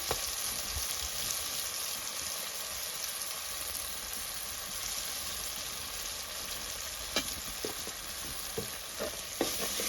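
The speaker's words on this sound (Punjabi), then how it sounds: "ਇਹਨਾਂ ਨੂੰ ਆਪਾਂ ਮਸਾਲਿਆਂ ਨੂੰ ਭੁੰਨ ਲੈਣੇ ਆ ਤਾਂ ਜੋ ਆਪਣੀ ਹਲਦੀ ਚੰਗੀ ਤਰ੍ਹਾਂ ਪੱਕ ਸਕੇ" Spices with turmeric roasting in a pan, a continuous quiet sizzle with a few sharp scrapes and clicks of stirring toward the end.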